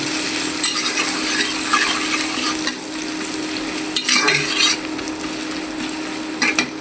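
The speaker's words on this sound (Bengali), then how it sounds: "লাল করে ভেজে নেব তরকারি দেওয়ার জন্য, একটু ভেজে নেব।" Onions fry in hot oil for an alu curry with a steady close sizzle, broken by occasional scrapes and clinks of a spatula stirring the pan.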